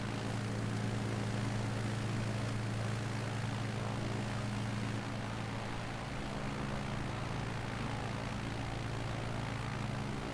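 Airplane engine hums while flying in a video game, a sustained loud propeller drone with a steady low tone that shifts slightly midway, no other sounds over it.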